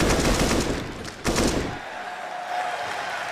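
Rapid gunfire from submachine guns in Counter-Strike on the Inferno map during a major tournament final, dense overlapping bursts for under two seconds before fading into a softer, steady background hum.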